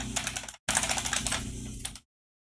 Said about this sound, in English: That's some aggressive typing. No, I just have a really loud keyboard.